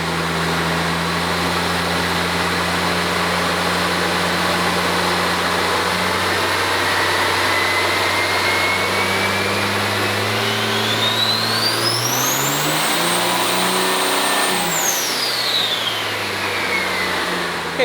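A high-horsepower diesel truck with a stock cylinder head runs hard on a dyno, a loud steady roar that climbs sharply in pitch, holds at peak with a rising whine, then drops back down, no talking over it.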